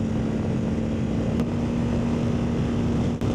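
A CFMOTO Ibex 450 motorcycle engine runs at a steady, smooth drone with a constant hum, heard close and continuous without revving changes or talk.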